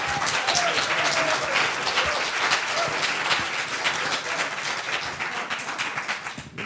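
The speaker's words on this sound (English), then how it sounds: "give it a round of applause" Sustained audience applause at a public session on race and the death penalty in Tennessee, dense steady clapping from a large crowd filling the whole stretch without speech.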